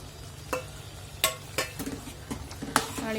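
Misal masala with chopped coriander stirred in a pan of hot oil, a handful of scraping strokes standing out over a low, steady background sizzle, close by with no voices.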